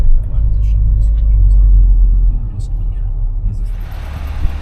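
A bus's engine rumbles loudly nearby and then fades as it pulls away from a stop in Spain, giving way to a hiss of passing traffic.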